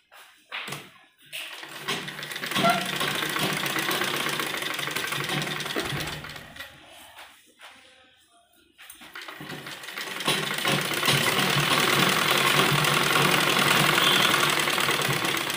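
A sewing machine runs in steady bursts while stitching a child's lined kurti, pausing briefly and then running on loud and close for a long stretch.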